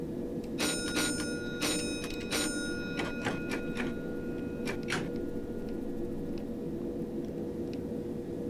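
A train bell signal sounds in the Train Sim Classic game on a London Stratford to Richmond rail route. Several sharp, close metallic dings come in quick bursts over the first five seconds, over a steady low cab rumble that carries on alone afterward.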